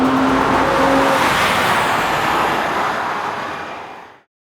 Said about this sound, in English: We've been driving around the racetrack for a couple laps.